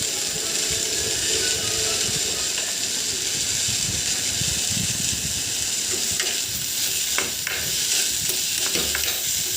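Onions fry and get stirred in a wok during a no-oil chicken recipe, giving a steady, close, continuous sizzle with scraping spatula strokes growing more frequent toward the end.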